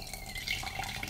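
Black tea from Jeju Island being poured into a cup, a short steady trickle of liquid splashing close up with no talk.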